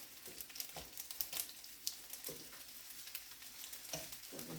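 Potatoes seasoned with salt and pepper frying in a pan, a steady close crackle and hiss with occasional scraping stirs, fairly faint, no voice.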